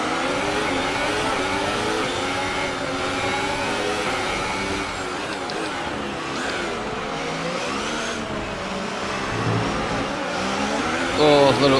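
A pack of Formula 1 race cars from the F1 2018 video game accelerates off the start, with layered engines whining and rising in pitch loudly and continuously while someone talks over the roar.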